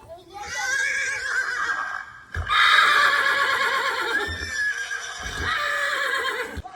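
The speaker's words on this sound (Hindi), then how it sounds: "घोड़े का इनको साउंड सुनाते हैं।" A recorded horse neigh played back to horses, loud, drawn-out whinnies with a break and renewed calls, close and filling the whole stretch, with faint background noise.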